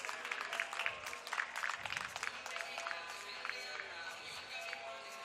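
An audience at a women's beach volleyball gold medal match in Manila gives light, scattered clapping with a few whoops, faint and uneven, under a loose murmur of voices.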